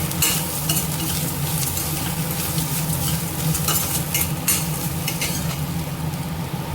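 Ingredients roast lightly in a pan on the stove, a continuous close sizzle with busy scraping from constant stirring, no speech.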